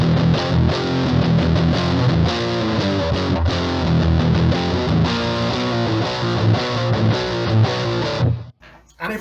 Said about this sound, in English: which makes it, for me, pretty much the perfect distortion pedal